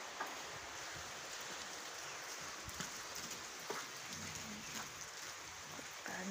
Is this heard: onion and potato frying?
no